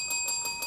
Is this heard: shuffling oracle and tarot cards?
no